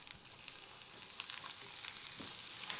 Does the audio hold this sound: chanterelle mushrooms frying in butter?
yes